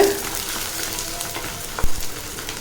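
Garlic cloves fry with urad dal and chana dal in a pan for mint chutney, a soft steady sizzle broken by a few sharp stirring scrapes.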